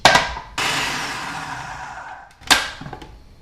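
A food processor chops courgette pieces in loud, whirring bursts: a short pulse, then a longer grinding run that fades, and another sharp pulse with clattering pieces, with no talk.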